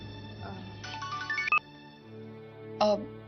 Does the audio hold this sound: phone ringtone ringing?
yes